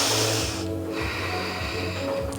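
During a slow yoga flow a person breathes in and out close by, with drawn-out airy inhales and exhales in a steady rhythm and soft nasal snorting at the edges, with no talk.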